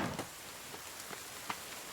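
Rain falls steadily in the survival video game The Forest, a soft continuous hiss with occasional sharper drop ticks, heard alone without voices.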